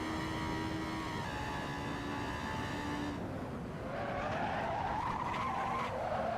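Race car tires skid and squeal under heavy braking at the Nürburgring in a racing video game, the steady engine drone giving way midway to a loud, wavering screech that persists to the end.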